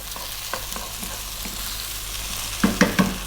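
Small-cut diced potatoes frying for a prawn curry, a soft continuous sizzle with light stirring taps, then a few louder scrapes and clatters near the end, no talk.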